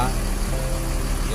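A bus engine idles at Tanjung Priok bus terminal in Jakarta, a steady low rumble heard alongside someone talking nearby.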